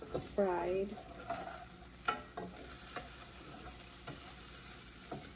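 Chicken pieces frying in a pan give a steady close sizzle, with a few scrapes and knocks of a utensil stirring them and a brief squeaky scrape near the start, no voices.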